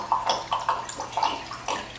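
Worcestershire sauce poured into a measuring cup for a meat marinade, with a close gurgling, splashing liquid stream in uneven glugs, moderately loud and without talk.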